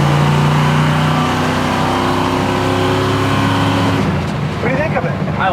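A 1970 Chevy Camaro restomod on a road drive: the engine drones loudly from inside the cabin, then the transmission kicks down and the revs climb and surge near the end, with voices heard over the engine.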